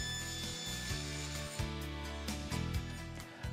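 A table saw slices a wooden workpiece held against an auxiliary fence on the miter gauge: a close, loud motor drone with rhythmic grinding pulses as the blade bites, heard alone.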